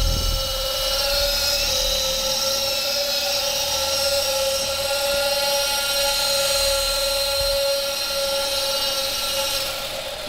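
A steady high-pitched motor whine with a buzzing rotor hum from a T-Series T-23 RC helicopter runs continuously and loud, close by, holding an even pitch throughout.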